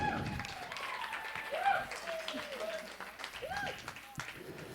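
Audience members give a round of applause, moderate clapping with whoops and voices mixed in, tapering unevenly toward the end.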